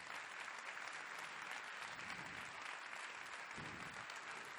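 Sustained applause from a crowd at a Joe Biden campaign rally in Hudson, New Hampshire, steady and dense clapping filling the whole stretch with no break.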